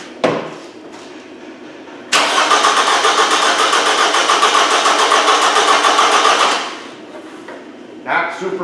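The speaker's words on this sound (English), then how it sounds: "Let me just crank it over." Toyota RAV4 engine cranking over on a charger, a loud uneven rhythmic starter churn lasting about four seconds with a lopsided beat from one cylinder low on compression, preceded and followed by quieter shop noise.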